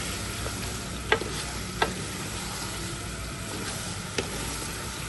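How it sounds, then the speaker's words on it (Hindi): Beef fries with onions in a hot pot for biryani, a constant crackling hiss with a few sharp clicks and pops scattered through it, no voices. "अब इसको अच्छे से हमने भून लेना है प्याजों के साथ"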